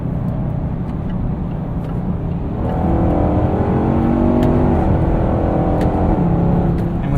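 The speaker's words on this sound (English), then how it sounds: "That supercharged 5-liter V8 just screams." A 2018 Range Rover Sport's supercharged 5-liter V8 drones steadily from inside the cabin, then rises in pitch and volume as revs climb, with a loud, continuous growl throughout.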